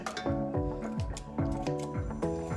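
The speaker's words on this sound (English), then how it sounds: "I'm just gonna cut my bacon up into the pan." Clean kitchen scissors snip raw bacon strips into a pan, giving a steady run of close, crisp cuts in an even rhythm, roughly three per second, with no talking.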